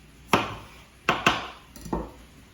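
Knife slicing a thick cauliflower steak on a cutting board, with four sharp, close chops in a short, uneven sequence, each followed by a brief crunching tail.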